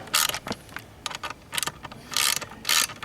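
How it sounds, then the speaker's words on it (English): A ratchet works out the E10 Torx bolts on a GM seat. Quick, close bursts of metallic clicking come in short runs with brief pauses between them, alone and fairly quiet. "so we're just going to take these two bolts out."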